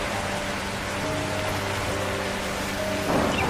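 Heavy cartoon rain pours steadily as a dense, even hiss with faint tonal music lines underneath, swelling slightly near the end.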